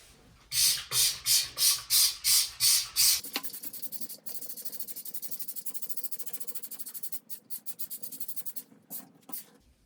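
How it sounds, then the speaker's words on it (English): A trigger spray bottle of Clorox foaming bathroom cleaner fires seven quick hissing pumps in a row, followed by a longer run of rapid, softer spritzing bursts close by. "I'm gonna start with spraying it with this Clorox Foamer"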